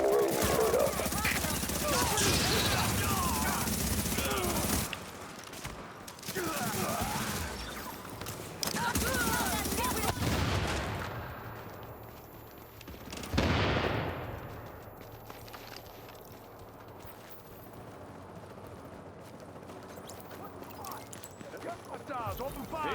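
Rapid gunfire rattles in bursts during a video game firefight, loud and dense at first, then breaking into scattered shots and fading under ongoing voices.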